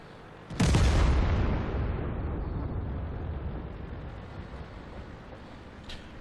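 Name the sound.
tank cannon firing in World of Tanks video game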